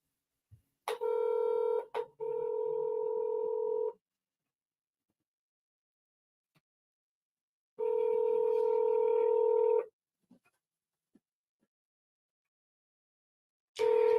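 A telephone dial tone sounds in steady stretches, broken by a few short clicks and a touch-tone beep, with long silent gaps between the tones; the tones are clear and close.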